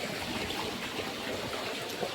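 Irrigation water pours from a pipe on a farm field, making a steady, soft rushing and trickling sound that continues evenly without interruption.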